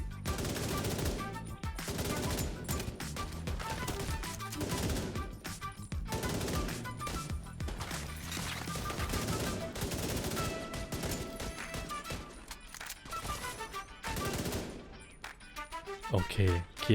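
Gunfire in the video game The Division 2, rapid automatic bursts and single shots crackling loud and near in dense clusters throughout, with talk mixed in beneath the shooting.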